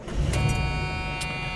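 A 1982 Avanti II car driving gently, its steady engine and road rumble filling the interior from close by, with a few brief higher-pitched mechanical whirs on top and no talking.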